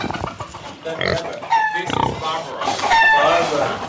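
Pigs kept as pets on Kibbutz Mizra snort and grunt up close in a busy, repeated stream, with people talking over the animal noises.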